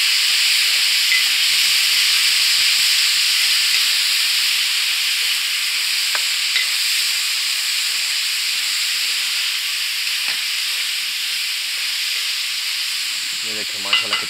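Onion masala hisses and sizzles steadily in a hot pan for Afghani-style mash dal, with a few faint scrapes as the lentils are stirred in; the frying noise stays even and close, with no talking.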